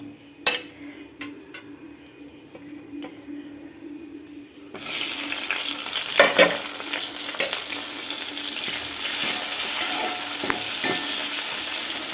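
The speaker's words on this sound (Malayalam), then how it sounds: "മുളകൊന്ന് മുരിഞ്ഞ് വരട്ടെ കേട്ടോ" Green chillies drop into hot oil and break into a bright, loud sizzle about halfway through, after a few quiet clinks and near-silence. The frying then hisses steadily to the end, with light stirring.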